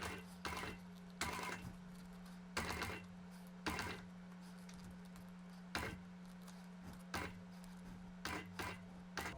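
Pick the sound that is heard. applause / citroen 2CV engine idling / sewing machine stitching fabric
sewing machine stitching fabric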